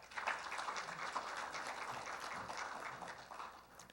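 Applause fills an awards ceremony for a Korean software industry protection prize, a steady, dense crowd clapping that holds fairly even for the full four seconds.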